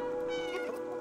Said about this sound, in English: it's the meow button